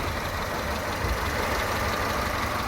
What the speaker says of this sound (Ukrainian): І от вам робота двигуна